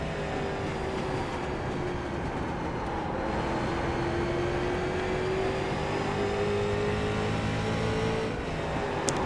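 A race car engine in a racing video game holds a high, steady whine in top gear on an oval, its pitch slowly climbing as it runs on alone without talk.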